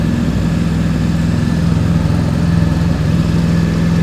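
A BMW R 1250 GS motorcycle engine runs on a cold start at a high idle, giving a loud, close, steady drone with an even pulse and no clear rise or fall in revs.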